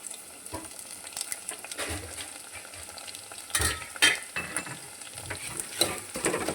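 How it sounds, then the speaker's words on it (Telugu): Crushed garlic sizzles and fries in hot tempering oil for a okra rasam, with a spoon stirring and scraping the pan in uneven bursts, close and steady without any talk. "ఇప్పుడు ఈ వెల్లుల్లిపాయలు కూడా ఫ్రై అవ్వాలి."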